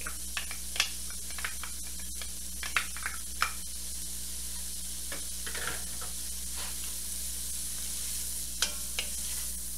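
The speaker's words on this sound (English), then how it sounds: "So I'm going to go ahead and add the garlic." Garlic sizzles in a soup pot alongside translucent onions, a steady close frying hiss broken by occasional sharp stirring scrapes and clicks.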